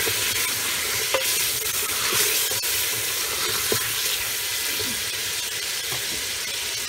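Garlic and dal fry and sizzle in a pan, with a steady crackling hiss and occasional scrapes and clinks of a spoon stirring, close and continuous.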